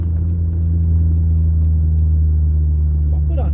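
Car rolling downhill on its own during a driving lesson, a steady low rumble of road and engine noise close up, continuous throughout.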